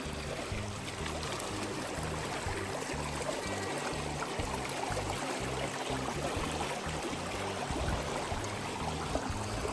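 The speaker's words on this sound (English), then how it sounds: "And here is our precious river." A cold mountain river by an abandoned house in a Bulgarian mountain village rushes and babbles steadily, a close, dense wash of flowing water with no voices over it.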